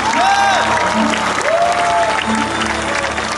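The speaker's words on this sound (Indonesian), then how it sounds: "Tepuk tangan buat Tuhan Yesus." A church congregation at a large revival service in a sports hall claps loudly and steadily for Jesus, with sustained music tones ringing beneath the dense applause and faint cheering.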